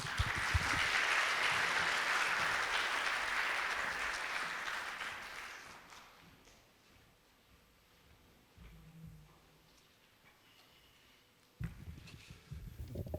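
A large hall audience applauds at a college's annual achievement-sharing ceremony as the college president walks up. Dense, loud clapping fills the first six seconds, then fades into a quiet room with faint rustling and footsteps before a brief burst near the end.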